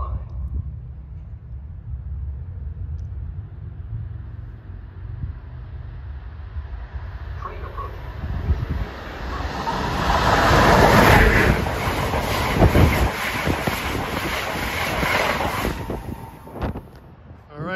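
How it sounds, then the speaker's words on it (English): Amtrak train 174, running from Newport News, Virginia to Boston, approaches as a low rumble that builds into a loud rushing roar with rhythmic wheel clatter, heavy wind buffeting and a high squeal before it fades. "602 approaching is 174 from Newport News, Virginia to Boston."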